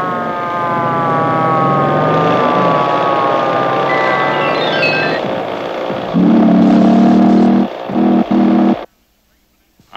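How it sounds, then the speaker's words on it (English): A cartoon steamship rolling down a street, rendered as a loud, wavering, siren-like whistle with gliding tones and a low droning horn blast, then cutting off abruptly into near silence. "I thought I heard a steamship coming down the street"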